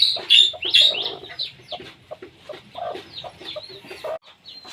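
A brooding hen lifted off her eggs clucks and squawks nearby, a series of agitated, uneven calls with short pauses and fainter murmuring clucks toward the end.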